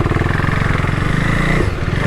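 Husqvarna Svartpilen 401 motorcycle engine running steadily and loudly up close at a junction, a continuous rough single-cylinder thrum with no clear break or cutout across the stretch.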